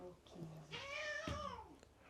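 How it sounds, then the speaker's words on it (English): A pet cat gives one drawn-out, wavering distressed meow indoors, rising and falling over a couple of seconds, with faint household background and a voice softly nearby. "That's a distressed meow"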